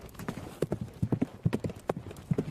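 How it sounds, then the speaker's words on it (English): Horse hooves clip-clop in a steady, close, fairly loud rhythm as an anime horse is ridden through sewers, with a low rumble beneath the hoofbeats. "listening to the footsteps of his horse"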